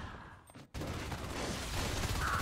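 Continuous gunfire aimed at the alien hive in Natural Selection 2, starting abruptly after a brief lull and then holding as a dense, loud, unbroken rattle of shots with no talking.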